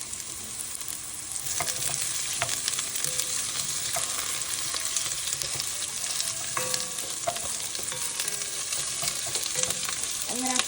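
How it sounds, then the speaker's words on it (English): Potato pieces fry in a pot of oil for a bell pepper soup, giving a steady, loud broadband sizzle throughout with scattered clicks and scrapes of stirring; no one speaks. "So now we're gonna add the potato pieces, and we're gonna add it till it's cooked"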